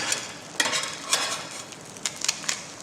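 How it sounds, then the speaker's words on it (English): Omelette vegetables cook in an electric skillet, a close, steady sizzle broken by light clinks and scrapes of a utensil stirring them. "Omelette veggies right with the electric skillet."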